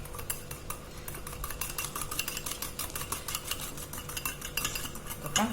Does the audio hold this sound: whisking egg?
yes